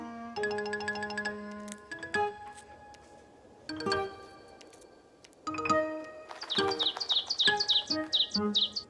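A small cartoon bird's quick high chirps and tweets flutter near the end, after bright chiming ding-dong notes of a children's animated music score, with no speech.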